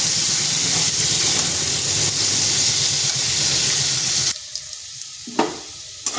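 Potatoes fry in hot oil until reddish, giving a loud, steady, close sizzle for about four seconds that abruptly drops to near quiet with a few faint clicks and pops.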